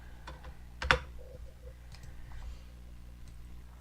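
Soft, quiet keystrokes on a computer keyboard, a handful of light clicks with one sharper tap near the start, spaced irregularly against a faint room hum.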